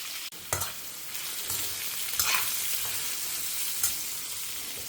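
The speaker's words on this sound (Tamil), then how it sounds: "காய் வதங்கிட்டு இருக்கு சத்தமாக இருக்கும்" Steady sizzling hiss of carrot and kohlrabi frying in a pan, with a few louder clatters and scrapes as it is stirred, no voices.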